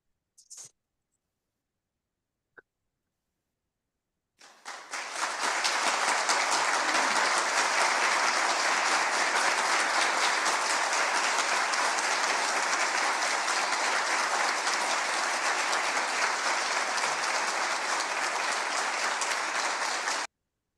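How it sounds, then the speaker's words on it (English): An audience at a Tamil Europe youth program gives a long, sustained round of applause. After a few faint isolated knocks, the dense clapping starts abruptly and stays loud and even to the end, with no talking. "do a round of applause for 30 seconds."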